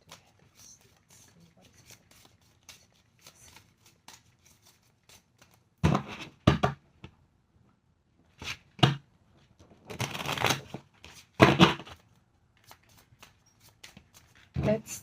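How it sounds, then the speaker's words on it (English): Tarot cards are riffled and shuffled by hand in quick bursts of crisp, papery flutters, with quiet pauses between shuffles and a voice talking softly in the background. "I have already shuffled the cards, but I feel the need to do it one more."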